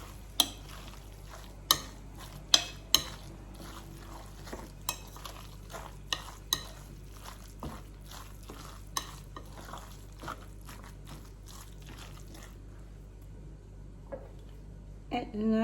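Beef dumpling filling with spring onion, oil and soy sauce is stirred in a bowl, giving irregular sharp clacks and wet scrapes over a quiet background, fading near the end.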